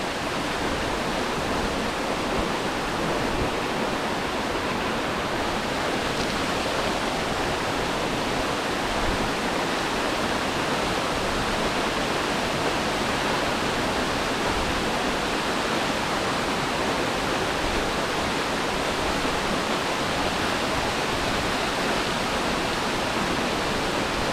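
A waterfall pours into a natural bathing pool in autumn, a dense steady roar of rushing water that stays constant and loud throughout, with no voices.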